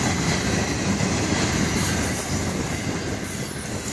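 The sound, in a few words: FEC freight train cars passing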